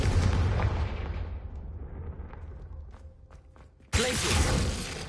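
A Confringo blast spell goes off in a Harry Potter video game: a loud booming explosion fades out over a few seconds, then a second explosive burst hits sharply near the end.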